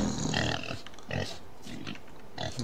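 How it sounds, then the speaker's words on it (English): A pig in the indie horror game MOLD gives several snuffling grunts and squeals in separate bursts, close and loud with short pauses between them and no talking. "There's nothing like a pig wallowing in its own filth to make you feel better about yourself, eh?"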